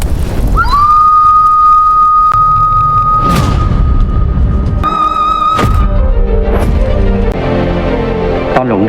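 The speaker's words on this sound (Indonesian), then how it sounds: "Renja langsung meniup peluit Sanor untuk menyadarkan Nortong." A Sanor whistle blown in a mountain cave setting, one loud steady piercing tone held for a few seconds, then a second shorter blast and a brief third, over dense rumbling background.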